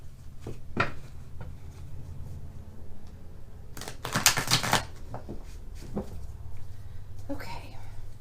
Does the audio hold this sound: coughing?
no